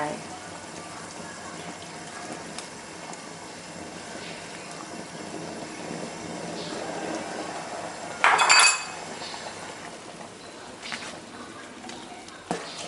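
Beaten egg is sprinkled into a hot pan over high heat while cooking Ubon-style coconut milk noodles, a brief burst of sizzling and clatter rising over quiet kitchen background noise.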